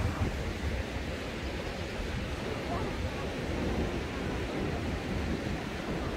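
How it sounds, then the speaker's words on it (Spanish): Steady broadband wash of surf rolling onto a relaxing beach, with constant low rumble and hiss and no distinct breaks, at moderate level. "Tenemos una hermosa playa relajante"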